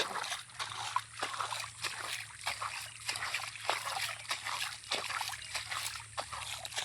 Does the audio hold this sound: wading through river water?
yes